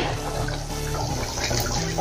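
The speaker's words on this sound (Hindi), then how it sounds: "अभी थोड़ा पानी और से डालेंगे इसमें" Water pours steadily into a pot of simmering masoor and tuvar dal, a continuous close splashing flow lasting about two seconds with no voices.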